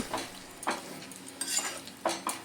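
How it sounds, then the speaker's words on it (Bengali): A chicken skin curry is stirred in a pot after water is added, with soft wet sizzling and several separate scrapes and taps of a utensil against the pot, quiet and close. "1 কাপ মতো জল দিয়ে নেড়ে চেড়ে খুব ভালো করে আমি আবার ফুটিয়ে নেব।"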